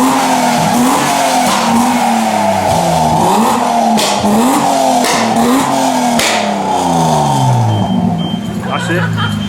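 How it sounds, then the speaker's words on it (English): A Lexus revs hard at a petrol station, its engine note climbing and falling repeatedly in loud, close bursts with a tyre-squeal edge, steady and continuous, with people around. "Nice bit of noise from the Lexus."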